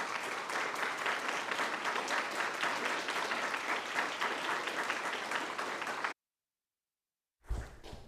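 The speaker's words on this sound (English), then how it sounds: "can we get y'all to stand up so we can applaud y'all?" Sustained applause from an audience honoring students at a school board meeting, steady and full for about six seconds before cutting off, followed by a brief burst of room noise.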